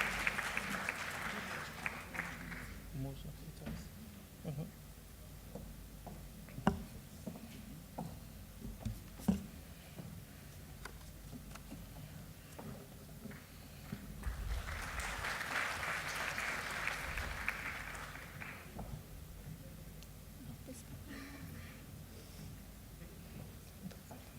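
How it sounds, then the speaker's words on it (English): Quiet applause from a ceremony audience for a recipient at a pre-departure event, with two swells of clapping, one at the start and a stronger burst midway, separated by scattered claps and low room noise. "Big round of applause for Palle Swetha"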